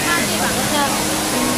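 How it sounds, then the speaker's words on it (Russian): Kawasan Falls in Cebu, Philippines, pours with a dense, constant roar of rushing water that fills the whole moment, with faint voices mixed into the noise. "И это только первый водопад."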